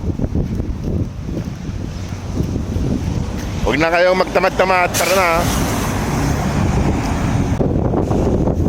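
Strong gusting wind roars steadily outdoors over a microphone, dense and loud throughout, with someone talking over it partway through.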